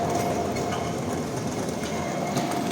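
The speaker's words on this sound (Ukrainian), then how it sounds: "зараз трамвай нас обжене" A tram rumbles past close by in a city square in Lviv, a steady heavy roll of wheels on rails with a faint metallic whine.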